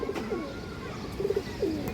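A male khora gola pigeon with a black tail gives four short, soft coos spaced irregularly, fairly faint over a low background hum.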